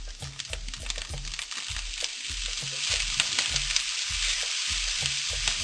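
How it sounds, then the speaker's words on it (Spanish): Egg and rice sautéing in a pan for arroz tres delicias, a steady loud sizzle with rhythmic scraping stirs of a utensil every half second or so. "como veis, estamos rehogando un poquito"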